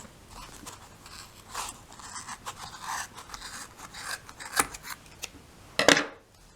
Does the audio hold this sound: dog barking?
no